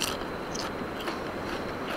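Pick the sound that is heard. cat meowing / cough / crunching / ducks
crunching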